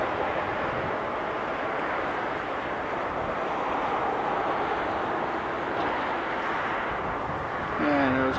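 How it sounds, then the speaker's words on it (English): A Frontier airliner takes off at Philadelphia airport, a loud steady broadband engine roar lasting throughout, with a brief whine rising near the end. "Frontier's lined up. Take off."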